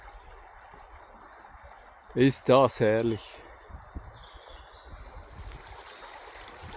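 A small stream runs through a forest in the Bavarian Forest, a soft, steady trickle and babble heard close by throughout, with a brief spoken remark over it midway.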